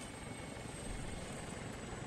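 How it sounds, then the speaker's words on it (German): Steady whirring rotor and engine drone of a helicopter taking off in the Arma military game, continuous and fairly loud with no voices. "Unser Heli ist abgehoben."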